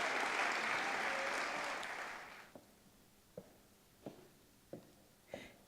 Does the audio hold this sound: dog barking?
no